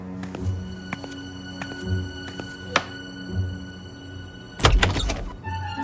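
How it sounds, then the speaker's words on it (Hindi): Several soft knocks land on a bedroom door in an uneven, spaced rhythm over a tonal musical background, then a louder thump near the end. "बेडरूम का दरवाजा कौन खटखटा रहा है?"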